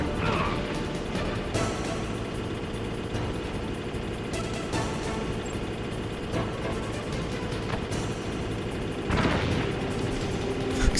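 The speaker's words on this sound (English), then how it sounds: "We've got to get close enough and launch the grenade" Grenade blasts striking the Gray Fox tank in a retro video game, heard as several sharp explosive bursts spaced across a dense, noisy battle backdrop, the loudest near the end.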